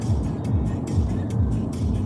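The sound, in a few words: road traffic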